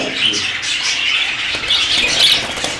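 A budgerigar chirps and squawks in rapid, high twittering bursts close by, continuous for a few seconds with no voices.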